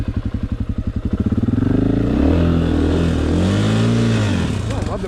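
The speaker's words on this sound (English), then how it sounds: "Oh, I love the back tire spinning like that." A motorcycle's back tire spinning on a log: the engine chugs in quick pulses and then revs up into a loud, sustained close whine that rises and falls.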